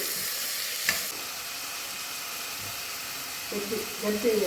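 Onion and green chillies fry in a pan with a constant hiss and a few stirring scrapes, while a voice briefly speaks over it.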